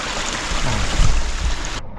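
Water rushes steadily down a rocky mountain stream beside a waterfall on a rainy day, a close, even hiss and splash that cuts off abruptly near the end.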